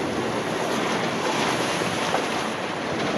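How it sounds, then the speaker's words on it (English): Wind and waves while solo sailing a boat toward Norway at about 17 knots of wind across the deck, a constant loud rush of wind over the microphone with surf hissing against the hull. "It's a little bit windier now."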